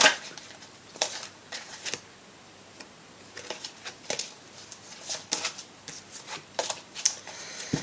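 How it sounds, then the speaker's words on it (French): Tarot cards are shuffled by hand in a quiet room. The riffles and flicks come in quick, irregular bursts, close and moderately loud, with no voices. "Je vais brasser un peu plus."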